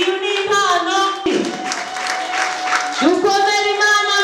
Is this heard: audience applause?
yes